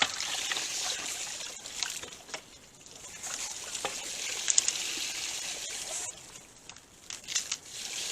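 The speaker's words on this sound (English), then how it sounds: "Every now and then I clean my hose out" Water rushes and gurgles through a ribbed gold dredge hose as it is flushed clean, a continuous close hiss and trickle with small splashy bursts.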